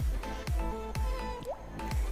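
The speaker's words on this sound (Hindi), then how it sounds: "अच्छी तरह से हम दबा दबा के इसका पानी निकाल लेंगे" Homemade mozzarella cheese being pressed by hand to wring out water, giving close wet squelches and drips in a steady rhythm of about four squeezes, with water trickling between presses.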